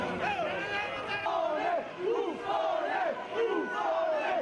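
A street crowd shouting protests at Renzi during his walk to Palazzo Rinaldi, loud repeated chanted cries rising and falling in waves, close and continuous.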